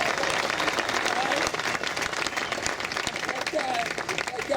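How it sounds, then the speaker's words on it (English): Steady, dense applause from an audience at the Hermosa Beach Surfers Walk of Fame ceremony, honoring surfer Sean Collins, with a few faint cheers and voices mixed into the continuous clapping. "Let's give Sean a round of applause."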